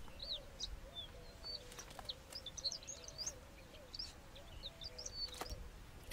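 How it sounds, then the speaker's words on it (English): A Temminck's horned lark calls in the Negev desert, faint thin high chirps repeating over a lower warbling tone and soft outdoor background hiss. "Also fighting for food and space in the Negev is another bird, the Temminck's horned lark."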